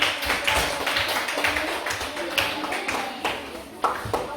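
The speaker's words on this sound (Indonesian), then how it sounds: "Coba kasih tepuk tangannya." Students in a classroom clap in scattered, uneven bursts at close range, with speech mixed in.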